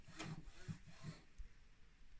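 Cotton T-shirt rag rubbed up and down on the metal surfaces of a Brother KH881 knitting machine during cleaning; three faint, quick swishing strokes up close, then near quiet.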